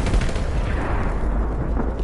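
Gunfire in a PS4 war video game, a dense sustained barrage of shots and booming blasts filling the whole clip, loud and close, with no talking.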